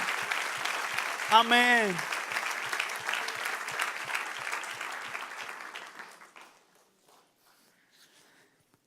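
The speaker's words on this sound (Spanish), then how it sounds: "Démosle un aplauso a Jesús" Church congregation applauding for Jesus during a sermon, a crowd clapping for about six seconds with a voice calling out over it, then stopping into near silence.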